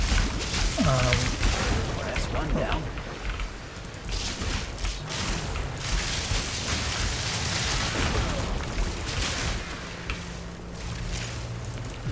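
Dense, busy crackle of Herald of Thunder lightning-arrow explosions from Path of Exile 2, a continuous layered clatter of bursts and mechanical rattles running steadily throughout with a brief tonal whine near the start.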